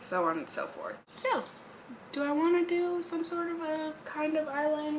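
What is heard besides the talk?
No everyday noises stand out.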